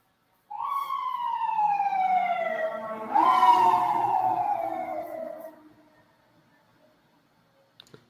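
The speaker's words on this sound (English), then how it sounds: "No, it's a siren in Florida." An emergency vehicle siren wails outside in Florida, a few blocks from a hospital, sweeping in a long falling tone that swells loud, dips and swells again before cutting off, with no talking over it.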